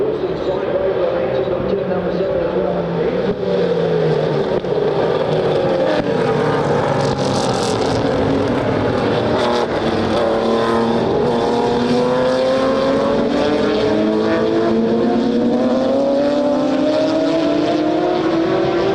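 WA muscle race cars racing at CARCO.com.au Raceway in a club round, loud engines droning and rising and falling in pitch as cars pass, with commentary talking over the roar.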